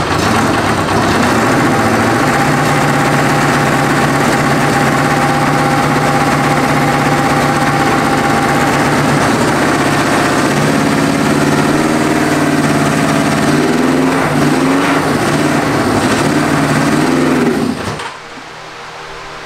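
A classic Honda motorcycle with its factory air box, left unwinterized, running steadily at idle after restarting, a loud continuous engine drone with rough vibration, then cutting out abruptly near the end.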